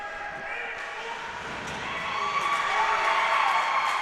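Crowd of parents cheering at a junior varsity hockey game between the Waterloo Warriors and Omaha Junior Lancers after a hit, a steady roar of voices that swells louder partway through.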